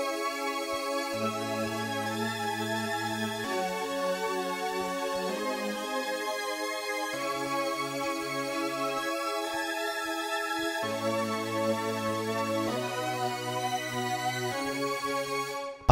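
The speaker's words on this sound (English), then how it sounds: "Then I added the same chords on a different sound, but this time I put them an octave higher to add some more variation to the sound" Layered synth chords made with the Unison Chord Genie plugin, doubled an octave higher on a brighter second patch, playing a steady sustained progression with regular chord changes every couple of seconds, loud and continuous with no voices.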